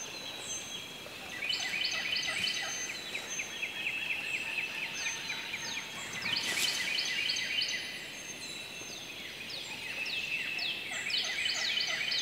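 A wild turkey gobbler in the Mississippi woods during spring hunting season calls from a distance, its rattling gobbles rising over a steady chorus of songbirds and a soft outdoor background hiss.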